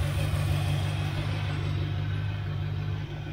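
1969 Chevelle Malibu engine idling steadily right after a cold start, a deep continuous rumble heard close up with no voices.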